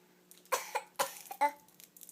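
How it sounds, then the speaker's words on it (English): A child coughs in a few close, sharp bursts, one after another, over a faint steady hum. "Why do you have such a bad cough?"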